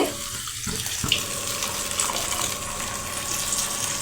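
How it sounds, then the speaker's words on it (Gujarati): Water pours steadily into a pot, a continuous close gushing splash with a small knock near the start. "હું તેમાં પાણી નાખી દઈશ રસો કરવા માટે"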